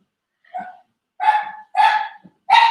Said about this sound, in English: Oh, that's my little rat dog.